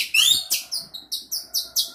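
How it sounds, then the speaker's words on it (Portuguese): A small caged bird chirps in a quick series of about eight bright, sharp notes, close and clear, the first rising in a thin whistle, with no talk over them. "Nossa, que passarinho!"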